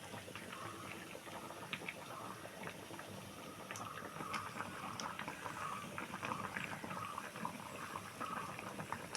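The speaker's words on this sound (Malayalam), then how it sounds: "മീൻകറി നല്ലോണം കിടന്ന് തിളക്കി" Fish curry simmers and bubbles steadily in a pot, a soft, continuous stream of small pops and fizzing close by, fairly quiet and with no talking.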